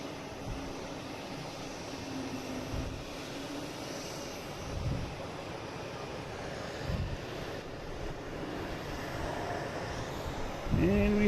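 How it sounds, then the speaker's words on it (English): A Delta Airbus A220 jet comes in to land, a moderate, steady engine roar with wind noise and a few low thumps, swelling slightly near the end. "We have a Delta coming in from Austin."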